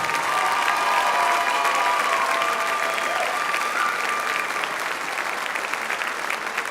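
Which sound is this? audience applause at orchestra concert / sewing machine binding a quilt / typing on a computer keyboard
audience applause at orchestra concert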